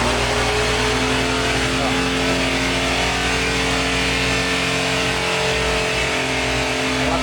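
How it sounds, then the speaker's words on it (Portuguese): Car engine revving hard inside a repair shop, a loud, sustained throaty roar with steady low rumble, and voices faintly audible beneath it. "a Rafa tá acelerando o carro ali, vai fazer barulho"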